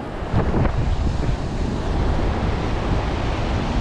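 Ocean surf breaks on a beach where sandworms are being dug, a loud broadband wash of waves mixed with gusty wind buffeting the microphone, continuous throughout with no voices.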